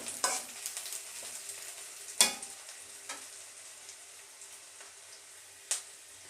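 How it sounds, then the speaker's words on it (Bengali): Onions sizzle softly in a pan while a utensil stirs them, with a gentle crackle underneath and a few sharp scraping knocks against the pan, no talk. "পেঁয়াজ লাল হয়ে আসছে,"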